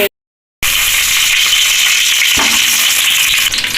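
Chicken sizzling and frying in ghee and Dalda for a home-style chicken biryani, a steady, loud hiss that carries on alone after a brief silent gap at the start.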